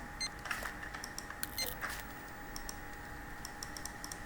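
Computer keyboard keys click faintly and sparsely while someone plays the game Teardown, with a few scattered presses over a low background hum.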